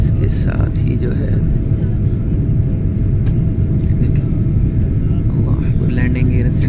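Steady loud rumble of a PIA airliner's engines and airflow on final approach to Lahore, with the landing gear lowered, a continuous cabin-level drone that never lets up.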